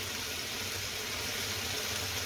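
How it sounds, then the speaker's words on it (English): Balti sauce bubbling vigorously in a pan, a dense, steady hiss and simmer of rapid boiling heard up close and loud without any talk. "So you can see that bubbling away ferociously."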